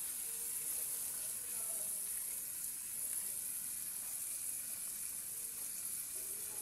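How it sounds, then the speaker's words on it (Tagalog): A pot of dinuguan stew with chili boils on the stove, giving off a continuous bubbling, sizzling hiss that stays steady and close for the whole stretch. "kumukulo na siya guys para lumambot"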